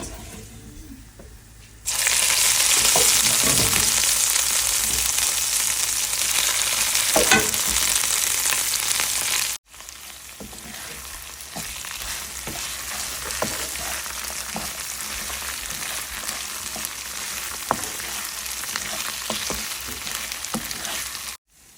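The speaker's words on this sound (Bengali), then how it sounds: "শাক ভাজি করা হয়ে গেছে" Red amaranth greens stir-fry with garlic and chili in a hot pan, with a loud, dense sizzle that stops abruptly, then resumes at a lower level with scattered crackles and stirring scrapes.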